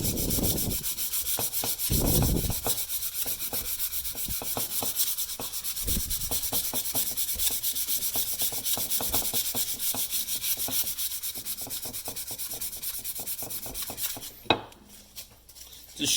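600-grit sandpaper rubbed back and forth over the stamped wooden handle of a Hults Bruk Kisa felling axe, a steady close rhythmic scratching with occasional louder strokes and a clunk near the end.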